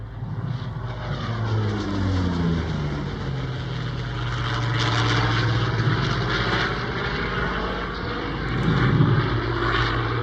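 A Hawker Sea Fury piston-engine fighter flies past at the Warnervale air show in 2024. Its propeller drone stays loud and steady throughout, swelling slightly near the end, with no voices.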